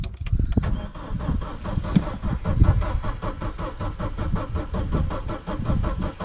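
A Vauxhall Astra engine cranks on a jump pack without catching. The starter whirs in a steady, repetitive churn close by for several seconds, with sharp clicks at the start.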